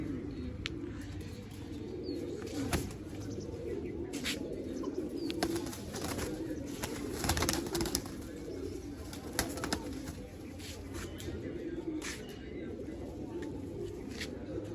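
Black-headed pigeons coo softly in a loft with repeated low throaty calls, some flapping and scuffling, and someone talking nearby over them.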